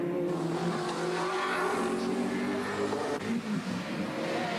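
Holden Commodore touring car, the No. 05 Mobil entry driven by Peter Brock, racing at the 1992 Bathurst 1000, its engine roaring steadily past amid broadband track noise, loud and continuous with no talk.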